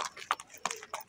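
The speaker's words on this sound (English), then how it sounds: "Look at this horse." Horse hooves clip-clop in a steady walking rhythm, four crisp hits in about a second, close by, at Caymanas Park racetrack.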